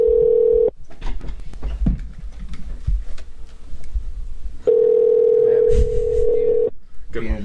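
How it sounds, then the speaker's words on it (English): A telephone dial tone sounds while calling someone on a podcast, a steady loud tone for about half a second, then again for two seconds near the end, with talk and background noise between. "We'll dial in one more time after this."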